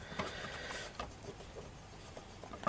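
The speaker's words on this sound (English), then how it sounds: "I'm going to put you in the Cuttlebug together" Cuttlebug die-cutting machine cranking a stitched-edge circle die with cardstock for a woodland Christmas card, a soft, close rolling grind with faint irregular clicks and rubbing, no voices.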